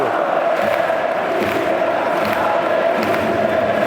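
A football stadium crowd at a UCL match cheers in a steady, dense roar that fills the whole stretch, loud and continuous without a clear peak.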